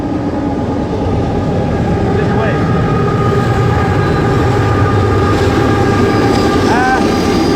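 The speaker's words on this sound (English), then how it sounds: "Here comes a train." A loud train rumbles past close by, steady broadband roar with a faint rhythmic rattle, while someone speaks briefly over it.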